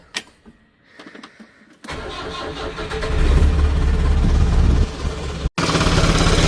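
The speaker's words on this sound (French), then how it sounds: "Je laisse chauffer le moteur un peu avant d'accélérer." A car engine cranks and catches after an oil change, then settles into a loud, steady warm-up idle with a low rumble, briefly cutting out before running again.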